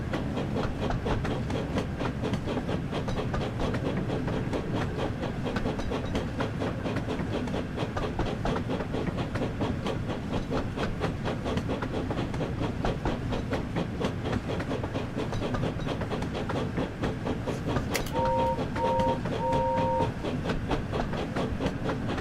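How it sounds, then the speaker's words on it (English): A video game train rumbles steadily with a repetitive clickety-clack rhythm and faint hiss, continuous and fairly loud throughout, with a brief tonal beep near the end. "Yeah, you hear it going choo-choo."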